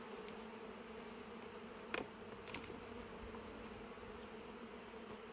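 Steady, low buzzing of many honeybees in a spring beehive close by, a continuous hum with a few brief louder passes of individual insects.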